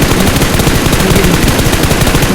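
Automatic rifle fire in the shooter game PUBG during a sensitivity test, rapid continuous bursts filling the clip, loud and dense with no talk.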